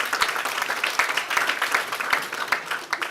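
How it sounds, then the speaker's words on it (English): A crowd at a morning business networking event breaks into dense, sustained applause, many hands clapping together at close range in a steady wash, with faint voices mixed underneath. "Can you give yourself a round of applause for making it out"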